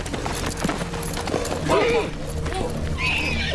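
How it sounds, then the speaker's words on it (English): A horse in a Game of Thrones episode, with hooves clip-clopping and a whinny rising out of a noisy scene, mixed with other sounds from the show. "That's my Uncle Benjamin's horse."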